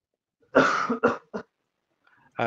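A person coughs two or three times in quick harsh bursts, close by, then falls silent before another cough begins at the end.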